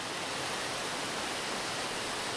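A waterfall among trees roars in a steady, unbroken broadband rush, loud and continuous with no other sounds.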